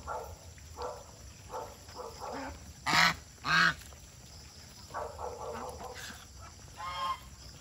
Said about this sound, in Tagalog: Ayan yung mga gansa saka pabo, bibing malalaki.